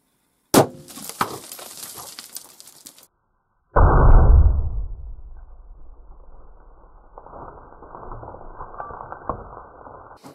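.223 rifle fired at an improvised armor plate of sheet metal over OSB: a sharp crack, then after a pause a second loud report with a heavy boom that decays into a long ringing tail, heard outdoors with no talk.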